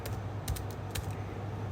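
Fingers tap quickly on a computer keyboard while a resume is filled in, a short burst of soft, close keystrokes over a low steady background hum.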